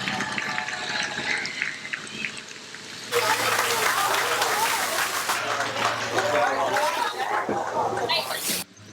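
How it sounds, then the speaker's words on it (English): A grandstand crowd at a stock car race cheers and applauds the winner, a loud, dense roar that rises suddenly and holds steady before cutting off, with an announcer talking over the start. "give a big cheer for your race winner"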